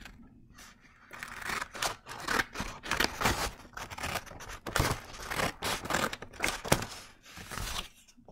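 Scissors snip through folded paper to cut out a crown shape for a preschool art project, giving a steady run of close, crisp cutting strokes with short pauses as the paper is turned.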